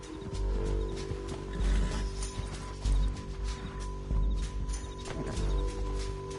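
Horses ride down a canyon in the video game Red Dead Redemption 2, with rhythmic hoof clip-clop at a gallop, quiet and steady under a faint background hum and music.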